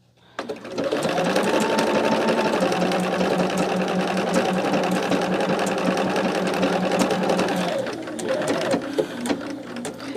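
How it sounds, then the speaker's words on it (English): A sewing machine stitches a quilt in a steady, loud mechanical whir with rapid needle rhythm, running continuously, then slowing and stopping briefly before a few short bursts of stitching resume. "I'm watching my stitches on the machine to know when I can turn now"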